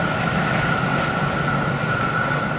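Fajar Utama Yogyakarta passenger train passing at close range, a steady loud rumble and rolling wheel roar holding for a few seconds with a persistent high tone riding above, no voices.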